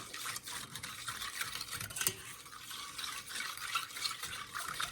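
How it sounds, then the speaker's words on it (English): A whisk stirs brown sugar and cornstarch around a pot for butterscotch pie, making a continuous soft scratchy swishing with quick rhythmic strokes, close and fairly quiet. "And I'm going to whisk that around."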